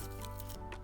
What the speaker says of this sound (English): Snip it off. Snip off that too.